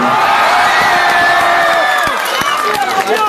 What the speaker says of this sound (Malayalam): ഒരു വലിയ കൈയടി